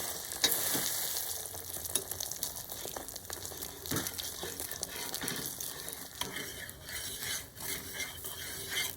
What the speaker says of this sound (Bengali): ডিমের মধ্যে আমি রুটিটাকে দিয়ে দিয়েছি দিয়ে খুব ভালোভাবে ভাজা করে নিয়েছি